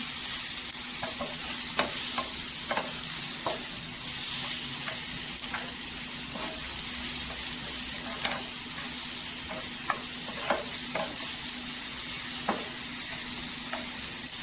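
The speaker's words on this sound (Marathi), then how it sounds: "इथे तेलावर परतून घ्यायचं सुके मसाले" Dry spices, including chilli powder, ghati masala, coriander powder and turmeric, sizzle steadily in hot oil for a dried bombil chutney, with scattered spoon-scraping ticks from stirring throughout and no voices.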